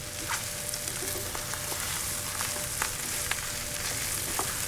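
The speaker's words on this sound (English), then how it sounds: "I'm gonna drop our par-cooked rice into our onions, our jalapenos, our pepperoni, our mushroom, our tomato sauce." Par-cooked rice sizzling in a pan with onions, jalapenos, pepperoni, mushrooms and tomato sauce, a dense continuous fry with occasional light stirring taps.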